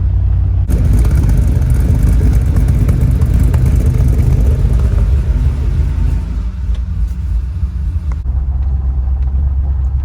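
An LS-swapped BMW E90 330i on a test drive, its engine a loud, steady low rumble heard from inside the car that eases slightly toward the end, with no speech.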